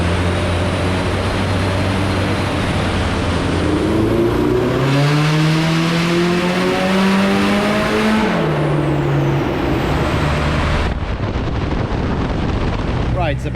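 A Nissan Silvia S15 drift car being mapped on a dyno, engine roaring loud and close, revs climbing steadily then dropping back, with faint voices under the noise.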